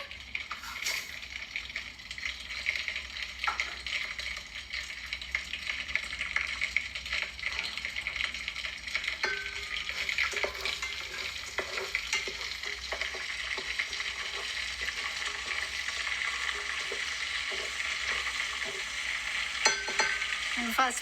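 Whole spices crackle and hiss in hot oil in a pan for Moghalai pulao, a steady, close frying sizzle that runs unbroken with occasional soft clinks.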